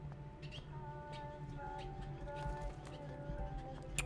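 A bird chirps faintly in the video game Life is Strange, with short thin calls scattered over a soft, steady ambient background.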